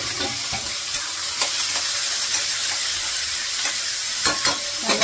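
Curry leaves and onion fry in a hot pan with steady sizzling, broken by a few sharp crackles and the scrape of stirring.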